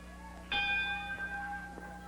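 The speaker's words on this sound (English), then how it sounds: "Bell time." A single ringing strike of a wrestling ring bell at the start of a match involving Jerry Lawler, sharp onset with sustained bright tones decaying over about a second and a half, over steady arena hum.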